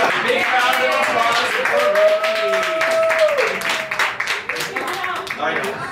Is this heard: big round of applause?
yes